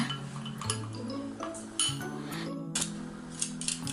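Oats being mashed with roasted ground black sesame in a bowl, with irregular clinks and scrapes of a utensil against the bowl and a low steady hum beneath, close and moderately quiet.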